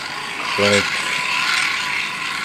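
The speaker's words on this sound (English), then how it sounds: "crank and crank until you can't crank anymore" A K-Tor Pocket Socket hand-crank generator is spun steadily, giving a continuous whirring, ratcheting gear noise close by with a brief louder grinding burst, and some voice nearby.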